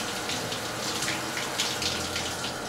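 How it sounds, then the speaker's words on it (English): Shower water runs steadily onto a first base baseball glove as it is wetted, a continuous close hissing splash with no voices. "I'm only wetting it until the outside changes colors a little bit."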